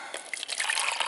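Water poured for mixing alum as a flocculant, a close, light splashing and trickling with small drips, fairly quiet and continuous after a brief start.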